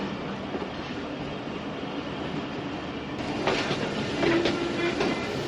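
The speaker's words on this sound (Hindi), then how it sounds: "48 डाउन रहमान बाबा एक्सप्रेस के बाद हमारी ट्रेन भी चल पड़ी है।" The 7up Tezgam, a Pakistan Railway passenger train, moving along steadily with a continuous rumble and rhythmic clickety-clack of wheels on track, the noise swelling slightly in the later seconds as brighter metallic clatter joins in, heard from on board.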